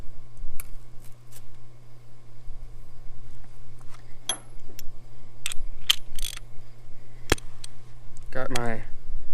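Ratcheting socket wrench tightening a nut with a locking washer on a secondhand roller, sounding as a series of short metallic clicks and scrapes, close and fairly quiet over a steady low hum, with a voice briefly at the end.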